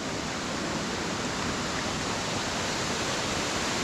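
Powerful waterfall at Stichill pouring over rocks, a dense, steady roar of broadband rushing water filling the whole clip, loud and close with no pauses.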